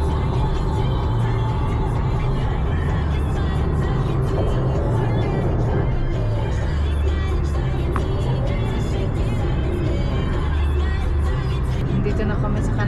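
A car cruises along a highway in Canada, a constant loud roar of road and engine noise with muffled voices murmuring faintly inside.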